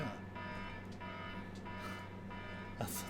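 An electronic alarm drones in the Resident Evil Revelations video game, a faint steady tonal buzz that holds for the whole stretch, with a brief sharper burst near the end.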